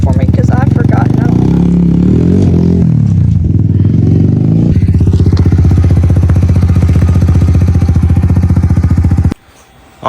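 A dirt bike engine runs loud and close in third gear, droning steadily before cutting out near the end, with people talking over it.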